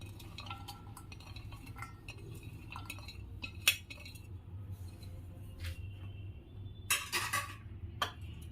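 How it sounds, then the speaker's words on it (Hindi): Finely chopped onions are mixed with spices and dry wheat flour in a bowl for pakoras, giving quiet, close clinks of a spoon against the dish and soft stirring scrapes over a low background hum. "तो चलिए इसमें प्याज मिला के और मसाला मिला के बनाना शुरू करती हूँ।"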